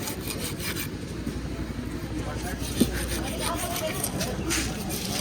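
A large fish weighing several kilos is cut by hand, producing a continuous rough scraping and rasping sound with one sharp knock, while people talk in the background.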